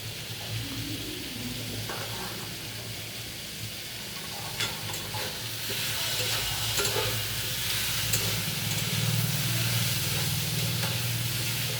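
Boiled jackfruit frying in a pan, a continuous moderate sizzle with stirring scrapes, growing louder and denser in the second half as the pieces keep frying.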